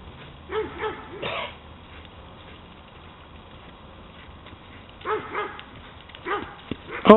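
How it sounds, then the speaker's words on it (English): A dog barks in short, separate bursts outdoors on a horse farm: a pair of yaps early, then several more near the end, over a low steady rumble of background noise. "Oh, the dog."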